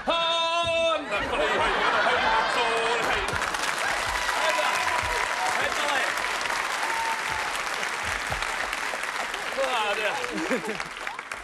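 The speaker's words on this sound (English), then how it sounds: "Come on, give me a two-handed clap." Sustained two-handed clapping from a crowd, loud and continuous for several seconds, mixed with scattered chuckles and laughter, with voices talking over the applause near the end.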